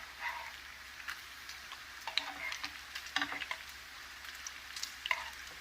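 Smoked apple wood bacon fries in a pan, a faint, quiet crackle with light ticking pops and a few utensil taps, heard close with no talk.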